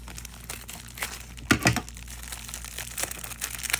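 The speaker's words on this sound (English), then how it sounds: "Cut the packet." A plastic packet of fishing tackle is cut open close by, making crinkling and crackling plastic noises with a sharper snip or tear in the middle of the short clip.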